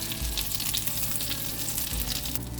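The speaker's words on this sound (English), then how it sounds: "Standing here frying this chicken" A continuous crackling sizzle of chicken frying in hot oil, close and steady, with a low hum underneath.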